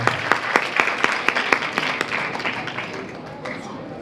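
At an Ayurveda toppers' meet-up in Varanasi, an audience welcomes a speaker with applause: sharp, distinct claps ring out first, then thicken into a softer, fading ripple as voices murmur underneath.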